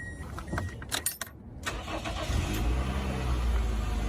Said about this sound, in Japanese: ちょっとエンジンもかけてみます。